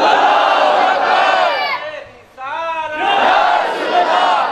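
A large crowd at a public gathering in Mirpur roars slogans back in loud unison, two sustained chanted responses separated by a brief lull, close and powerful.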